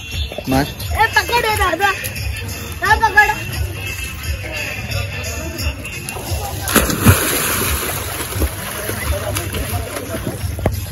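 Someone dives into cold water, probably the sea near Mumbai or Panvel, with splashing and sloshing heard close by beneath steady talk and excited voices.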